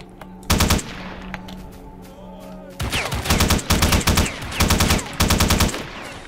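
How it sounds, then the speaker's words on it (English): A light machine gun fires in STALKER: The Lost Alpha: loud, close bursts of rapid automatic shots, a short burst first, then a pause with low ambient hum before several longer chattering volleys follow in quick succession. "I have a light machine gun, so we'll see what they say about that"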